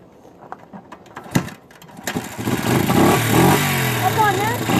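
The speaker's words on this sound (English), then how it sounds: "Let me go ahead and start the bike." A dirt bike is kicked and sputters, then catches and revs up to a loud, buzzy engine roar, with people talking over the early attempts.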